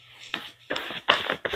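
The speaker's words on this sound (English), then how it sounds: "What I'd like you to do now is cut the cards and complete the cut." A deck of playing cards cut and the cut completed, giving a few quick close riffling and tapping bursts of card against card, brief and crisp, with short pauses between them.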